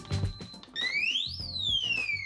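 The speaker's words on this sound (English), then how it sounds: "As you can see, the alarm is going off." An SF0107 safe sounds its audible alarm after repeated wrong code entries: a loud electronic siren tone sweeping upward then gliding back down, preceded by short beeps and clicks from the keypad.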